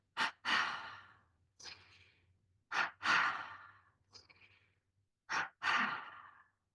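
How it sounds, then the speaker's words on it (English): Breathing exercise during a relaxation workshop: one long inhale through the nose followed by a double exhale out the mouth, repeated about three times as soft, close, airy breaths with no talking. "a single inhale through the nose and then a double exhale out"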